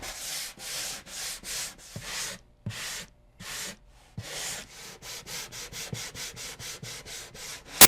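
A block sander is worked along the grain of a wooden guitar top, a series of rhythmic rasping strokes, close and clear, with short pauses between passes and a faster run of strokes toward the end.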